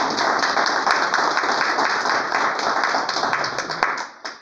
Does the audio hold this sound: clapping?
yes